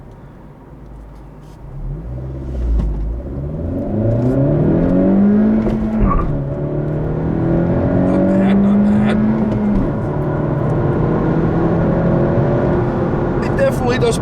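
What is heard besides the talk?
2017 Honda Civic Hatchback Sport accelerating from a stop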